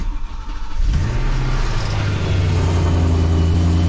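A car engine cranks and catches, then settles into a loud, steady idle with rising revs, pulled out of a garage.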